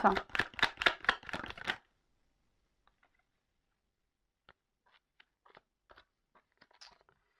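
Tarot cards shuffled by hand for a nine-card spread, a dense run of quick riffling, crunchy bursts for under two seconds, followed by sparse faint taps and card handling in near silence.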